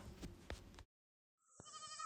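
A goat gives one wavering bleat, close by and fairly loud, following a moment of silence after some shuffling noise.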